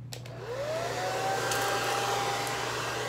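Hair dryer switching on and settling into a steady, loud whirring blow close by, with a faint rising whine as the motor spins up, running without a break.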